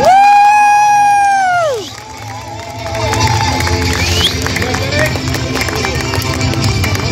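Crowd at a regional adult swimming competition awards cheering and whooping for the champion, a loud sustained roar of voices following a fading electronic tone, with shouting children mixed in.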